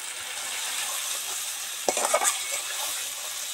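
Spiced masala paste sizzles steadily in hot oil for a katla fish curry, broken by a short burst of stirring and scraping against the pan, close and alone.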